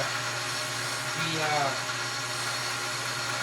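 A metal lathe runs with a steady broadband whir while taking a light facing cut on a piston, the machine noise constant and close, with a brief tonal rising sweep partway through.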